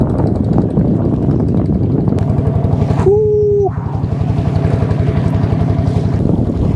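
A motor boat on the Jamuna river, its engine droning steadily and loud up close with wind rushing past, and a brief rising whine mid-way.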